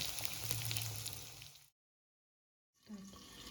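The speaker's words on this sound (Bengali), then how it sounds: "আলু দিয়ে একটু নাড়াচাড়া করে দেবো পেঁয়াজের সাথে। এই আলুটাকেও 2 মিনিট ভেজে নেব।" Potatoes frying with onions in a pan, a steady close sizzle that cuts out for about a second and then comes back.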